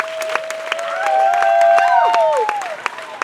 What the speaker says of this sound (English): You're about to hear another round of applause loud to drive you even further into training.